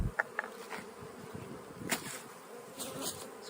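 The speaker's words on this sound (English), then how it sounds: "Looking at bees covering all the frames" Honey bees swarm over the frames of an opened hive colony, a soft steady buzz with occasional louder individual bees flying past close by, no talk.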